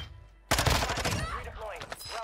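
Machine gun fire in a shooter video game erupts abruptly after a quiet start, with a dense, rattling burst of rapid shots. Excited voices shout over the gunfire and continue as the shooting thins out.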